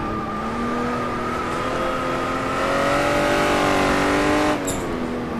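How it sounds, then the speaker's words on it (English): Jaguar D-type race car at Goodwood braking into a corner: a steady, loud engine drone with shifting pitch as revs fall, and a brief sharp burst near the end. "Still braking into this corner, still braking a little bit."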